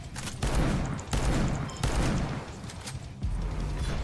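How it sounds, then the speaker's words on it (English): Enemy gunfire in the shooter game InfecDOOM: dense, continuous bursts of shots crackling over a low rumble, with brief dips between volleys, loud and close throughout. "Is that guns? Okay, so they can shoot now."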